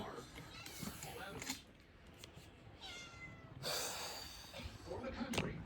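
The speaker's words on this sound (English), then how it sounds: "Little cat's meowing." A small cat meows a few times, moderately close, with someone talking over and between the calls in a home setting.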